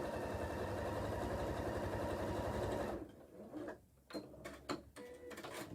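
A sewing machine stitches patchwork sashing at a fast, steady run for about three seconds, then stops, leaving scattered fabric handling and small clicks close by.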